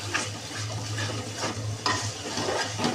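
Spice paste for tehari being stir-fried: a steady close sizzle broken by scraping and clinking of a spoon against the pot, no speech.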